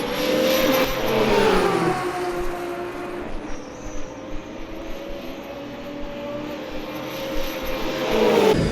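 An Alpine race car engine in the Le Mans Ultimate racing game at the 24 Hours of Le Mans howls close and loud, rising and falling in pitch through gear changes and corner exits, with no talk.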